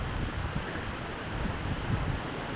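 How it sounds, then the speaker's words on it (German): Steady gusting wind buffets the microphone on a steep, rainy hillside during a camping trip, a low continuous rumble with no voices. "Könnt ihr das Wind hören?"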